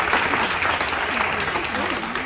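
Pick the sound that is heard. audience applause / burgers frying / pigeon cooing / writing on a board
audience applause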